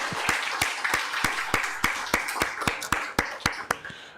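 A church congregation at Sunday service claps in steady unison, about fifteen crisp, evenly spaced claps at a brisk beat, fairly close and with no talking.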